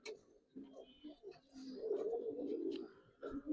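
Coloured Giribaz pigeons at a pigeon farm coo softly in short, throaty bursts, close and quiet, with a faint murmur in the background.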